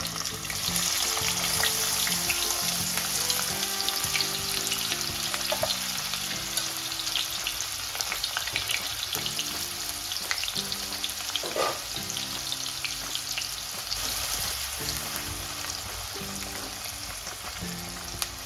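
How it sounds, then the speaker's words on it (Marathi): Finely chopped tomato and small onions frying in a pan for a sprouted moth bean curry, a continuous close crackling sizzle with intermittent stirring and scraping throughout. "आता टोमॅटो आणि कांदा अगदी आपल्याला ब्राऊन कलरवर भाजून घ्यायचा अगदी व्यवस्थित असा"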